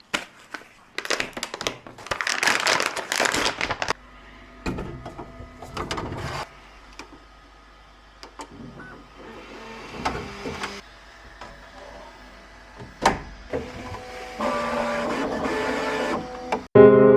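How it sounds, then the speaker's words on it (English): A 3D printer prints ABS filament nearby, giving a busy run of stepper-motor whirs, buzzes and clicks. Bursts of fast head movement alternate with quieter passages, and a louder clunk comes at the end. "just switch the filament to the ABS and hit print"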